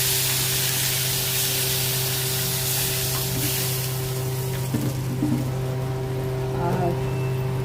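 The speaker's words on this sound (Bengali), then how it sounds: "এবার জল ঢেলে দিলাম" Water is poured into a hot pan holding fried pomfret with turmeric and chili paste, producing a continuous sizzling hiss over a steady low hum, with a few brief clinks partway through.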